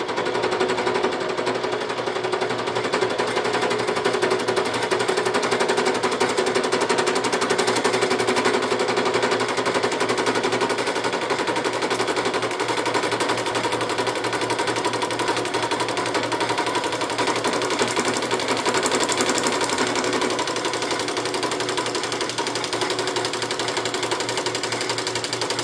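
A fly cutter surfaces a flat part held in jigs on a Bridgeport milling machine, producing a steady, loud continuous whirring grind with a fast rhythmic chatter that runs unbroken.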